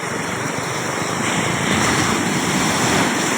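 Steady roar of large ocean waves with rushing surf and wind noise, loud and continuous throughout, no voices.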